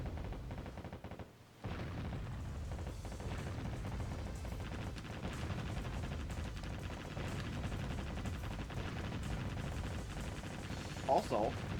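Naval shellfire from warships in Warship Gunner 2, sounding as a steady stream of dense, rumbling gunfire and booms that continues almost without pause, with a sharper burst near the end.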